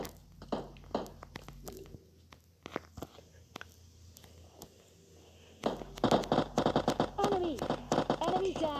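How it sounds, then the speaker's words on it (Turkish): Sharp gunshot cracks from a video game pop in scattered bursts, building into dense rapid fire near the end, with faint talk underneath. "silah sesi"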